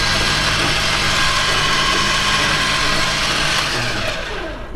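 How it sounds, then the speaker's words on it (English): A winch spools the last few feet of synthetic line onto its drum, a loud, steady motor whine with mechanical whirring that runs continuously and close, tapering slightly at the end. "we'll go ahead and get this last few feet of the line onto the winch"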